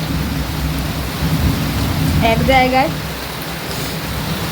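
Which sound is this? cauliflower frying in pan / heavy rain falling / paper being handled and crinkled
heavy rain falling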